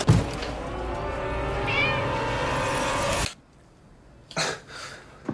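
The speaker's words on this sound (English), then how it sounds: "do you know whose cat this is?" Cat meowing in a film scene: a short meow stands out over busy, noisy background sound, followed by a quieter stretch and a few soft rustles.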